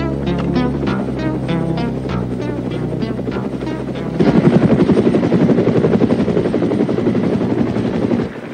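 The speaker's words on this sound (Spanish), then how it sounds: "¿Y ese helicóptero?" Helicopter in a 1989 action-comedy film, its rotor thumping steadily throughout, growing louder and closer about halfway through with dense low chopping, no voices over it.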